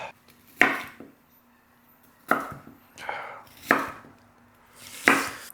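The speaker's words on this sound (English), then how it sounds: "So now what I'm doing is just dicing up the pepper next." A knife dices pepper for chili on a cutting board, five distinct close chopping thuds spaced roughly a second apart with quiet gaps between, no talking.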